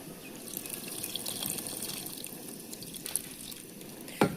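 Water runs in a soft, steady trickle in a home kitchen while sambar is being made, a faint continuous pour ending in a brief splash, with no talk.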